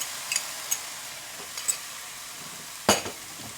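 Stirring browned ground beef and softened onions with onion soup in a pan, a few soft scrapes and clacks over a faint background sizzle, ending with one sharper scrape.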